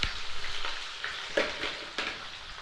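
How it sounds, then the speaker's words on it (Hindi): Onions frying in hot oil for chicken matar, a loud, close, continuous sizzle with a few clattering stirs of a utensil in the pan. "अब हम इस तेल में जो है प्याज डाल देंगे"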